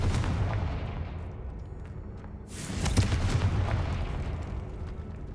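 The Confringo fire spell in Hogwarts Legacy bursts with a sharp explosive crack midway, followed by a rolling, rumbling low blast over steady game ambience.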